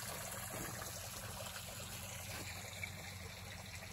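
A creek in Tennessee flows steadily during an ice storm, a constant rushing and trickling of water that stays even and moderately close, with no voices.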